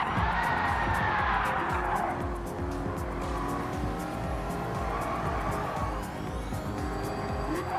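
A Nissan Fairlady Z and a Shelby GT350R race in Gran Turismo 7, with steady engine drone, squealing tires and skids sustained throughout, close and loud, without speech.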